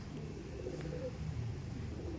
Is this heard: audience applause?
no